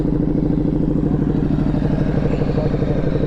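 A Ducati Diablo 1260 motorcycle with an aftermarket Aero exhaust runs close and loud, its engine pulsing in a fast, even, throbbing rhythm with a clattery mechanical edge throughout.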